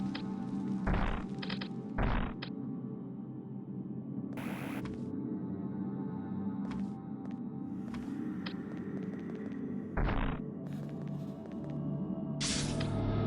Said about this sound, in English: A missile.